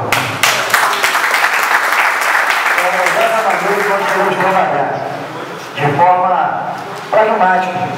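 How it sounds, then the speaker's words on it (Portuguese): Applause during a public hearing in a legislative assembly, dense clapping from an audience that runs for several seconds and blends with people talking and cheering. "A senhora merece essa salva de palmas."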